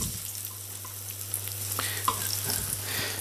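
Breaded green asparagus spears frying in fat in a pan, a steady close sizzle and crackle with scattered pops over a low constant hum.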